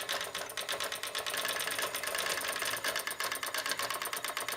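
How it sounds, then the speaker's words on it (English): A single-needle monochrome dot printer chatters in fast, rapid mechanical pulses, steady and fairly loud throughout, with no voices. "With no more than one needle, it is inevitably a monochrome printer, producing large dots with low speed."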